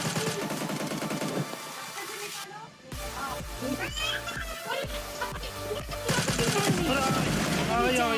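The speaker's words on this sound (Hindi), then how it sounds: "इसने आरपीजी तो चलाई होती है" Gunfire bursts and a rocket-propelled grenade launch in a shooter video game, loud repeated shots with layered game sound effects and music-like tones filling the whole stretch, with a brief drop near the middle.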